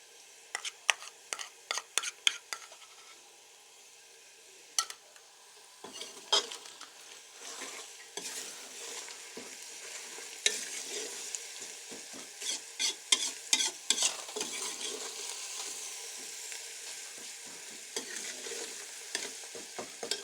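Garlic paste sizzling and frying in ghee with onions over a high flame, with steady crackle and repeated scraping stir strokes of a spoon against the pan, close and continuous, no talking.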